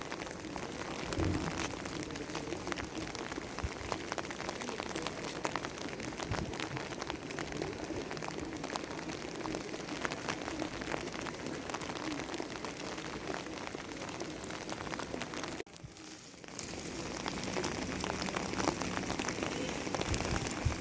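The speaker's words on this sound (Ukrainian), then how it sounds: "Падає такий дощ, наче найнявся." Heavy rain pours steadily in Rimini, Italy, a dense continuous hiss of drops striking hard surfaces, briefly dipping before resuming at full strength.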